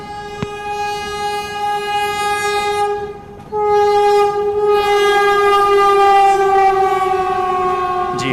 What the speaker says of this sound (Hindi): जी हाँ, बिल्कुल वाराणसी वंदे भारती है ये।